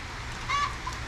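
Chickens in a rainy backyard give one soft, brief cluck or squawk over a steady hiss of falling rain.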